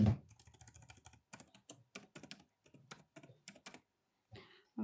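Quick, light clicks on a computer keyboard come in close, rapid bursts broken by short pauses, fairly quiet, with no talking.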